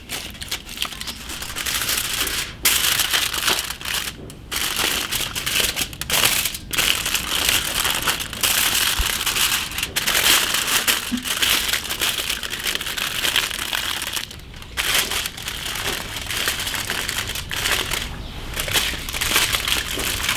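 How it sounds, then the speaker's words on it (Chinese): Aluminium foil is crumpled and crushed around beef bones before charcoal roasting, a loud, continuous crackling and crinkling that runs for a long stretch with only a few brief pauses. "用锡纸把它包进里面"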